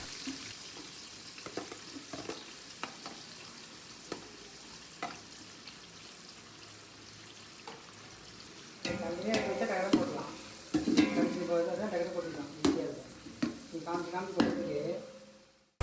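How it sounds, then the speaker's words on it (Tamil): Onions sauté in homemade pure cow ghee for a whole-rabbit dum biryani. A soft sizzle runs quietly at first, then louder stirring and clattering frying sounds take over in the second half. "வெங்காயத்தினுடைய நிறம் மாறுற வரைக்கும் நல்லா வதக்கிடலாம்."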